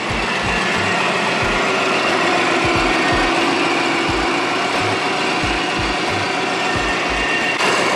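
Subaru Forester SG5 engine idling steadily after an oil change, a fairly quiet, even rumble with a regular low pulsing throughout and no voices.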